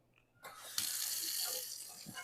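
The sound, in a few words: cold tap water running into bowl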